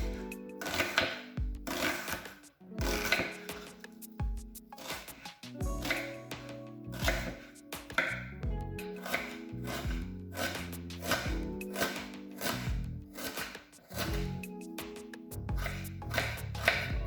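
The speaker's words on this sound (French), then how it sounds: "je vais couper mes oignons et je vais les faire revenir" A knife chops onions on a wooden board in a home kitchen while making leek soup, giving a rapid series of close, crisp taps in uneven bursts with short pauses between them.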